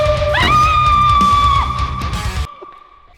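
A woman lets out a long, loud, sustained scream while being launched by a catapult, a single rising yell held close for about two seconds before it cuts off abruptly.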